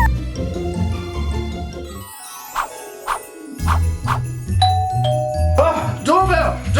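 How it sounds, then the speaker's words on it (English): A bright electronic doorbell chime rings out in a short melodic pattern, mixed with excited voices talking over it. "Oh, doorbell! Doorbell!"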